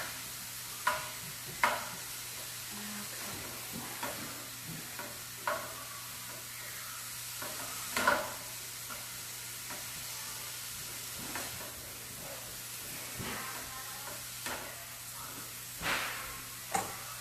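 Chorizo sizzles steadily in a pan as it's turned over with tongs, with a run of sharp clicks and scrapes from the tongs spread through the close, continuous frying hiss.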